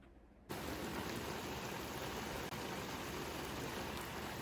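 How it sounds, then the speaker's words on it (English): Steady rain hisses close and even over a garden in July, a dense constant patter that starts abruptly and runs on with no voices. "This rain is killing me."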